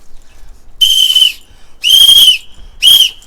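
Three loud, shrill whistle blasts, the second the longest, with short gaps of quiet between them, heard alone with no talking over them.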